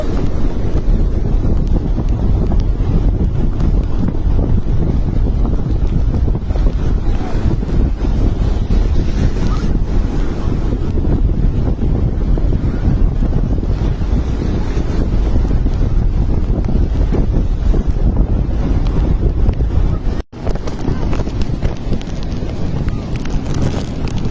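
Strong ocean waves roll and crash onto the shore under heavy, steady wind buffeting the microphone, a dense continuous roar lasting throughout with a short dropout near the twentieth second.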